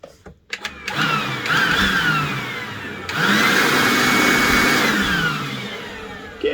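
OZITO cordless leaf blower on an 18V battery, running near and loud with a steady high-pitched motor whine and rushing air, revving up twice and holding speed without talk.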